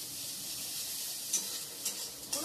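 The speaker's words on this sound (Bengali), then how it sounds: "সর্ষে বান্নাতে একটু নাড়াচাড়া করে নিচ্ছি" Mustard and poppy seed paste is stirred in a pan over a soft, steady sizzle, with a few brief scrapes of the spoon. The sound is close and fairly quiet, with no talk.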